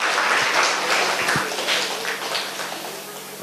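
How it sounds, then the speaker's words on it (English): An audience at a training session bursts into a round of applause, a dense, even wash of clapping that holds steady throughout the short moment. "Please, a round of applause."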